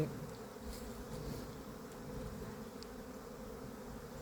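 Honeybees hum steadily around an open hive during an early-season inspection at the brood frames, a dense continuous buzz close by with occasional louder passes of individual bees.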